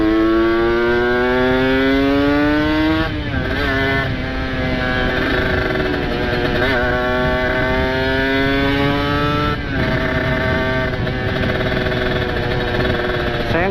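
A motorcycle with a ported engine and open exhaust rides through traffic, its loud engine droning close and steady, rising in pitch as it accelerates, dipping briefly at gear changes, then climbing again.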